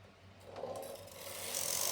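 A Knitmaster 323 knitting machine carriage sliding across a row, a short rising rasping scrape that grows louder toward the end, with no talking.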